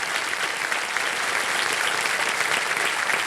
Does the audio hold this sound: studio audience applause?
yes